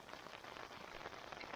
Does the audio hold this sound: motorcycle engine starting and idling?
no